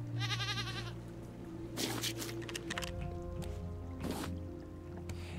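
A goat bleats once with a wavering cry at the start in the video game Raft, followed by clicks, thuds and splashy effects over a steady background drone.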